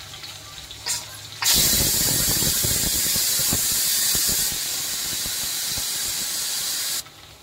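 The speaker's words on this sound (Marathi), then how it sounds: "आता टमाटर टाकूया आपण. टमाटर पण चांगले शिजू घेऊया." Tomatoes hit a hot cooking pan with a sudden loud, steady sizzling hiss that holds for several seconds, then cuts off abruptly, with no voices.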